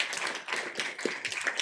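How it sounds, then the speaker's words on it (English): Applause from a small audience at a health systems research symposium session, light and uneven clapping with distinct individual hand claps and taps, fairly close and without speech. "just give you guys also a round of applause for being such a wonderful audience as well"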